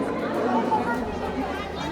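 Dense crowd chatter at Harishchandragad fort, many overlapping voices murmuring and talking at once, steady and close throughout.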